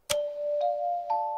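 A crystal bicycle bell is struck three times in quick succession, each bright ring sustaining and overlapping into a clear ringing tone with no talk over it.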